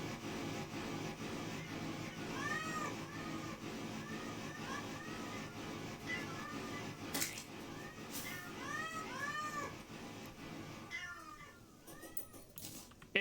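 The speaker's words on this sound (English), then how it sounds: "Also, a flamethrower that meows." Repeated cat meows from a meowing flamethrower weapon in the Terraria Calamity Mod, mid-pitched cries recurring through steady game background noise, with a burst of denser mewing near the end.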